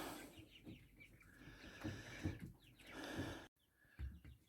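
Chicks in a brooder on an unheated veranda, giving soft repeated clucks and peeps close by, with small rustling movements between the calls and a brief silent gap near the end.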